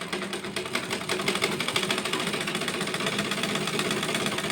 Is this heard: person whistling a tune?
no